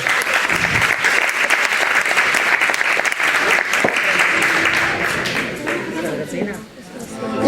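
An audience at a 2021 singing-school recital applauds a singer with loud, dense clapping that holds steady for about six seconds, then thins and dies away near the end.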